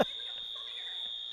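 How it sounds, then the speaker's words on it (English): A fire alarm squeals in a school gym during a basketball game, a steady high-pitched continuous tone held throughout, faint under distant crowd and court noise. "That's the fire alarm."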